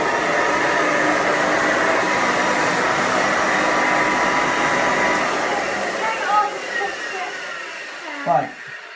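A Hoover vacuum cleaner with a 290 watt motor runs steadily at close range, a loud continuous whirring roar that holds for most of the clip before faltering and winding down near the end.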